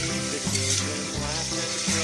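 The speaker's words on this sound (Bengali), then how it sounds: "তো আমার এখানে কষানো চলছে" Meat being sautéed in a pan for kosha gives a loud, dense, continuous sizzle close by, with faint stirring movement and no talking.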